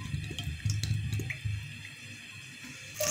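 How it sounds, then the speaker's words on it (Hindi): Cooking oil pours into a pan for a bhindi masala, a soft liquid trickle with light splashing and drips, fairly quiet and close, with no talking. "सबसे पहले हम ऑयल डालते हैं।"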